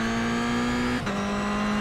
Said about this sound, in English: If I downshift and brake the car.